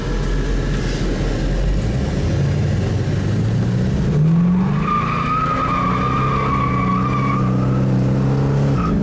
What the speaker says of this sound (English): Rips the tires loose when it shifts to second.